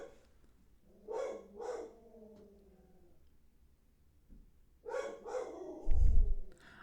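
A dog barks outdoors, two sharp barks near the start and another pair later, moderately loud with quiet gaps between.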